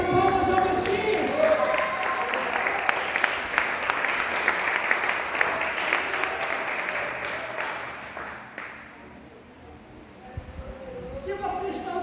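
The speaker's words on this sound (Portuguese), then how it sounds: "renda palmas ao Messias" Church congregation clapping during a Pentecost service: a dense, loud round of applause mixed with crowd voices that fades out after about eight seconds, leaving quieter room sound.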